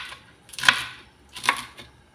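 A knife chops through a chilled tomato on a board in a home kitchen. Two separate cuts land clearly, each ending in a sharp knock of the blade on the board, with quiet between them.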